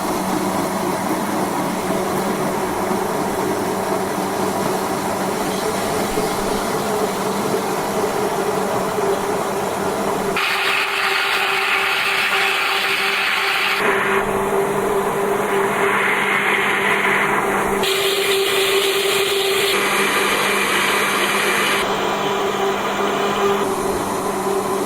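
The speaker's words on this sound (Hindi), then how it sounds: "अब इसको अच्छे तरीके से ब्लेंड करते हैं।" A blender runs steadily, blending loquat juice with a pinch of salt, as a loud continuous whir that shifts pitch and texture several times as it works, close up with no one talking.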